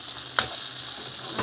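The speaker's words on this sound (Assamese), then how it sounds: "মাংস ভাজি" Meat fries in a pan at home with a steady, close hissing sizzle and one faint tick partway through, with no voices.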